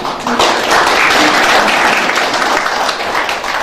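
Audience applause greets a professor being introduced at a Korean panel forum, a dense, steady wash of many hands clapping together, loud and sustained throughout without letting up.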